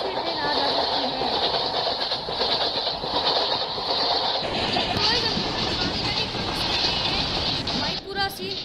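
A train passing in a 3D Indian train video game gives a continuous, loud rumble with rhythmic clattering of wheels on track, and people talk over it throughout.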